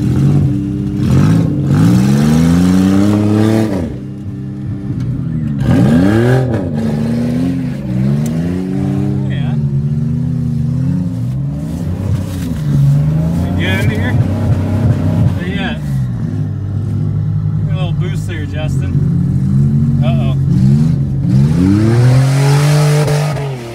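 Buick LeSabre car engine revving in repeated rising and falling surges, loud and close, while people talk and laugh over the engine throughout.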